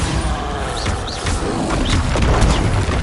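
A Bombarda blasting spell explodes in the video game Hogwarts Legacy, a loud crashing boom with rumbling debris and whooshing effects lasting throughout.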